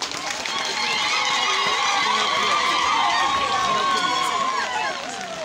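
An audience at a presidential event at State House in Uganda breaks into sustained applause and cheering, steady and dense throughout before easing slightly at the end.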